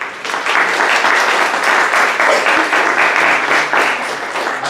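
Dense, loud applause from a medical conference audience honoring Dr. Luz María de la Sancha Mondragón, a steady wash of many hands clapping that swells quickly and holds evenly before easing slightly at the end.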